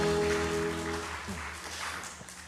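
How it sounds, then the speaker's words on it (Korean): A church congregation breaks into applause to glorify God at the close of a worship song, the broad clapping wash starting over a fading sustained organ or keyboard chord and continuing steadily. "우리 하나님께 영광의 박수하겠습니다."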